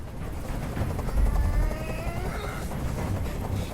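A hovering helicopter during a hostage negotiation in Detroit Become Human gives a steady, low rotor thrum that continues throughout and swells briefly near the middle.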